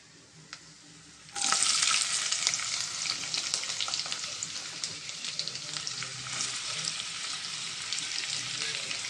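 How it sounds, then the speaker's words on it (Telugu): Onions and green chillies hit hot oil with a sudden loud sizzle after a quiet second, then keep up a steady bright frying hiss with small crackles, close and alone. "ఇప్పుడు మనం ఉల్లిపాయల్లోనూ పచ్చిమిరపకాయలు వేసుకుందాం."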